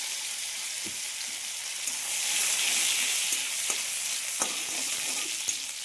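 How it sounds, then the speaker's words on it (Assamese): Raisins fry in hot ghee in a pan, giving a steady, close, hissing sizzle with a few soft pops and stirring clicks and no voices over it. "এইখিনি মই খিচমিচকেইটা অকণমান সময় ভাজি ল'লোঁ"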